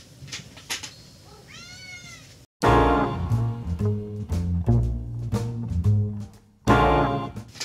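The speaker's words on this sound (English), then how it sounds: "Hold on, I gotta let the cat out." A domestic cat gives one short, rising meow close by, then loud strummed guitar chords take over with a steady rhythm.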